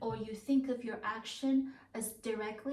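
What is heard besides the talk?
No everyday noises stand out.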